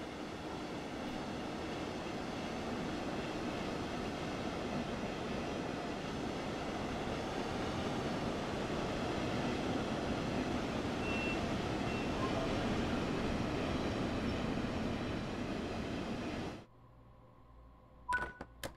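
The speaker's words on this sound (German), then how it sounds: "Ah, da kommt ein Regionalexpress." A regional express train in the Train Sim World 3 game rolls in with a steady, fairly loud rumble and rail hiss lasting about sixteen seconds, then cuts off abruptly, leaving a few faint clicks.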